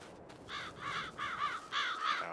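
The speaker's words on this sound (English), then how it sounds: "Oh, I hear birds." A crow caws several times in a row, harsh repeated calls at moderate distance, with no one speaking.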